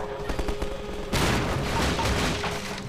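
Shotgun fire crackles through the Half-Life 2 video game, starting as a sudden burst of rapid, overlapping blasts that continues steadily at moderate distance.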